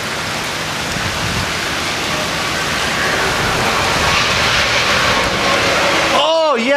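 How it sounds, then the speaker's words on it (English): Steady, loud rain pours down during a May storm in Sonora, Texas, a dense continuous hiss that holds throughout, with a brief warbling electronic tone at the very end. "Rain."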